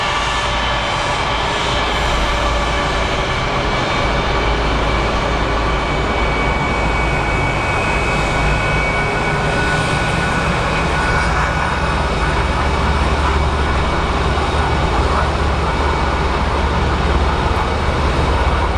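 An MD-11 airliner landing at Sky Harbor Airport makes a loud, sustained engine roar over a deep rumble that holds steady throughout, with no talking.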